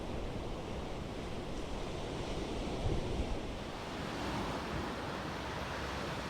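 Ocean waves washing onto a beach below a cliff, a steady distant roar of surf mixed with wind buffeting the microphone, with no voices.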